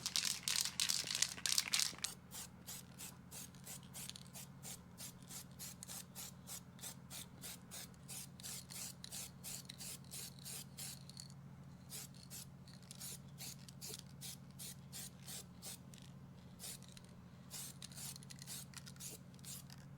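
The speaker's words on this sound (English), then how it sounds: "Protect the windscreen from overspray." A car chassis is spray painted black: short rhythmic bursts of aerosol hiss, close and fairly faint, over a steady low background hum.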